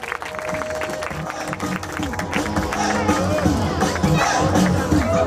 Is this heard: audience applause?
yes